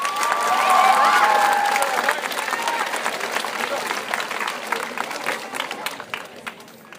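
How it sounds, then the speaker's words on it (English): An audience at a school promotion ceremony breaks into sustained applause mixed with cheering and crowd noise, loudest near the start and then holding steady as a dense, busy wash of clapping. "So let's all give them a great round of applause."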